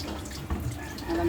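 Cold water runs from a kitchen tap during cooking, a steady rushing splash with small surges, close and moderately loud, with no talking over it.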